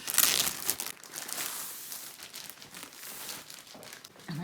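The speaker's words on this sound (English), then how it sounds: "The time has come to unwrap the canvas." A diamond painting canvas from Diamond Art Club is unwrapped from its plastic packaging, giving a continuous crinkling and rustling with loud crackling bursts at the start and quieter crumpling afterward, close by and without speech.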